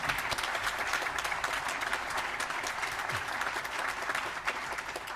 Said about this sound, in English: Why don't we give them another applaud?